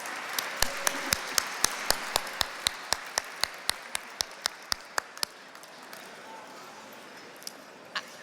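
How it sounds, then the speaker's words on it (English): Clapping at a university alliance dinner: a steady run of sharp, evenly spaced claps, about four per second, lasting roughly five seconds before fading to room tone with one last stray clap. "How about a round of applause for this audience?"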